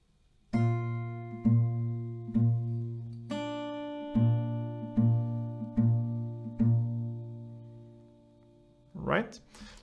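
Acoustic guitar slowly picking the G section of a song: a steady bass note repeated about eight times under ringing upper strings, close and clear, ending in a brief scrape of fingers on strings.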